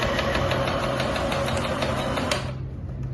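A sewing machine runs steadily, stitching with a fast, even mechanical hum and rattle that stops abruptly near the end; no voices are heard.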